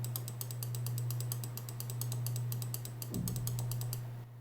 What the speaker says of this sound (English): Right click.